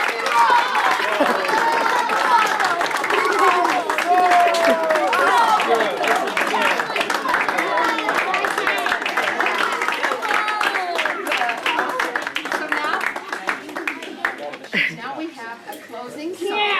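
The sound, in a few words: audience clapping for Mother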